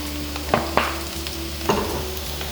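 Beef frying in coconut oil in a Kerala-style pan, stirred steadily under a constant loud sizzle, with three sharp scraping strokes of the spoon standing out near the start and end.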